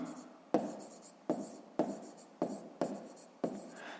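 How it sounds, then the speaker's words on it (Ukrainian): Pen strokes drawing an asterisk by hand on paper during a fifth-grade maths exercise, six short sharp scratches in a steady rhythm, close and fairly quiet, with no talking. "Записуємо тоді зірочку."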